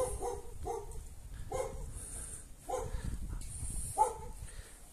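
Two dogs bark repeatedly at a rural country property for sale, a string of moderately loud barks in uneven bursts, with some yips, over a steady outdoor background.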